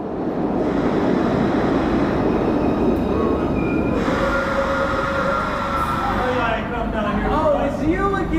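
A subway train rumbles loudly along one of a city's main underground lines, a dense continuous roar with rattling and squealing tones, with voices talking over it.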